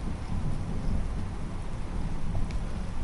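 Heavy rain pours down during a thunderstorm, a dense steady roar with deep rumbling thunder rolling underneath throughout, no voices.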